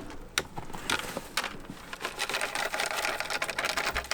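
Seeds mixed with perlite are shaken inside a pillowcase, giving a steady, gritty rattling and rustling with sharper clicks, close and continuous for a few seconds without any voices.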